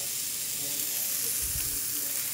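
Meat pieces sear in a dry pan without oil, giving a continuous close sizzle and crackle with a brief low bump partway through.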